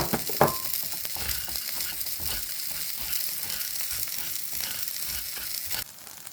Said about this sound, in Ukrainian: трошки підсмажимо вівсяні пластівці на середньому вогні